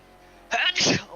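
A single sharp human sneeze bursts out close to the microphone, a quick inhaled catch followed by a loud explosive release lasting under a second.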